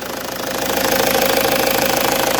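An Opel Astra G 2.2 DTI diesel engine idles close and loud, a steady rough clatter with a light rhythmic ticking running through it.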